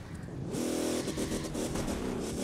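An ice cream truck in The Crew 2 revs its engine hard for a burnout, a close, loud, continuous roar that climbs sharply after a brief lower idle and stays strong throughout.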